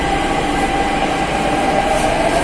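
A Delhi Metro train pulls into the station with a steady, loud rumble of rolling wheels and rail noise that fills the whole stretch, close by and with no voices over it.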